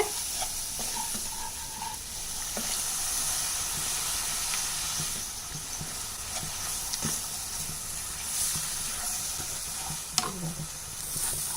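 Semolina (rava) is stirred with milk in a pan over a low flame, giving a steady soft hiss and sizzle broken by occasional light scrapes and clicks of the spoon, with no talking.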